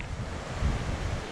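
Ocean surf washes up against the rocks along the shore at Fort Fisher, a steady broadband rush with a slightly swelling wave in the middle, mixed with wind buffeting the microphone.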